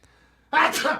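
A single sharp sneeze bursts out close to the microphone after a short quiet moment, loud and abrupt.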